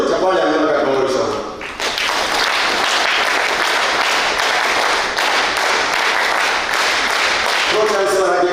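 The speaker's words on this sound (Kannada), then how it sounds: "ಶ್ರೀ ಎನ್ ವಿನಯ ಹೆಗಡೆ ಸಾಹೇಬರಿಗೆ ನಾವೆಲ್ಲರೂ ಚಪ್ಪಾಳೆ ಮೂಲಕ ಗೌರವಿಸೋಣ" Audience applause honouring N. Vinaya Hegde at a Dharmasthala de-addiction camp gathering in Nitte, a loud sustained burst of many hands clapping that swells quickly and holds steady, with brief speech at the start and end.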